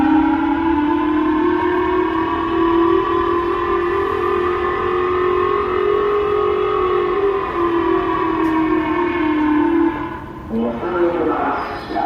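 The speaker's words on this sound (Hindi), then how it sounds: "पूरे जापान के गलियों और मार्केट और मॉल हर जगह पर सायरन बज रहा था" Civil defense sirens wail across Japan during a missile overflight, a loud sustained tone rising and falling slowly for about ten seconds before it dips and fades near the end.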